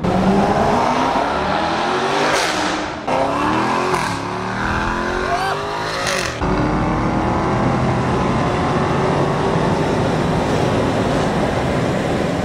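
A Jaguar XE SV Project 8 with a 640-horsepower engine drives hard, its loud close engine roar rising and shifting through revs with brief gear-change dips, then settling into a sustained heavy drone with road noise.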